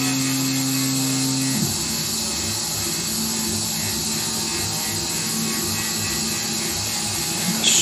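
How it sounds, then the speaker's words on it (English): A Carvera Air CNC machine's spindle spins up, a rising whine that shifts pitch after a couple of seconds and settles into a steady high tone over a continuous mechanical hum. "Spindle's spinning up."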